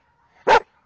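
A pit bull gives one sharp, loud bark on command, close up and alone, preceded and followed by silence.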